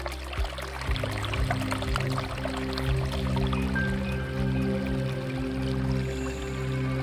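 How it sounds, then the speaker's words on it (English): Water flowing in the Orcia River near Montalcino, Tuscany, a soft continuous rush heard under steady low music. "You might be even hearing the sound of water. This is the Orcia River"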